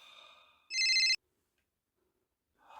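A telephone rings with bright electronic trilling tones, a brief burst then a louder ring cut off abruptly, followed by silence and another ring starting.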